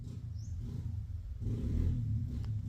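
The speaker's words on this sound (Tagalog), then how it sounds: "Naririnig niyo po ba yung naririnig kong motor?" A low motorcycle engine rumble rolls by, heard from inside a cave, muffled and distant, swelling briefly then fading, with a faint hollow ambience.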